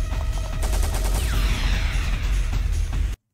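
Rapid gunfire from the video game Lifeline, a dense burst of repeated loud shots rattling on for about three seconds before cutting off abruptly.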